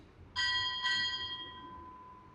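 Two ship's bell strikes ring out at a naval retirement ceremony, quick in succession, clear and bright, then decaying slowly into a quiet hall.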